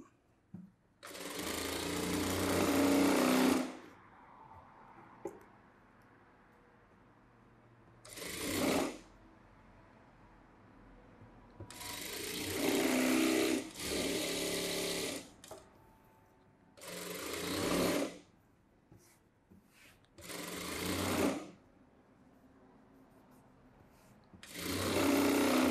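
Short bursts of a sewing machine stitching a blouse start and stop repeatedly, each run lasting a few seconds with quiet gaps between, fairly close and alone.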